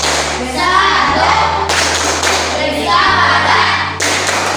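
A group claps in rhythm for the Tepuk Rukun Islam chant, steady loud hand claps repeated in bursts over a low droning background.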